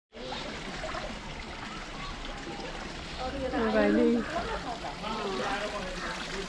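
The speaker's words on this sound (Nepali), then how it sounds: "पानी चढाइरहेको छ है अर्जुनधारामा।" Water trickles and splashes steadily as devotees pour it as an offering at the Arjundhara temple during Bal Chaturdashi, a constant wash under a voice and nearby chatter.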